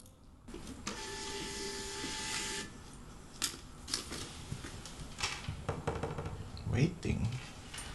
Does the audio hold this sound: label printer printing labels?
yes